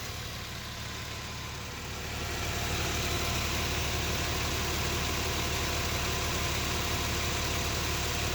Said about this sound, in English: we'll let the car run a little bit for the fluid to get warm and hot